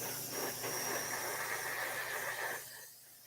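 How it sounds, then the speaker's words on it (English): An air compressor runs indoors at night as a steady, loud hiss with a constant mechanical hum beneath it, holding even for most of the moment before dropping off near the end. "you're going to have to excuse the compressor, but I kind of need it on to do this"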